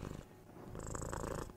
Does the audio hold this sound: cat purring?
yes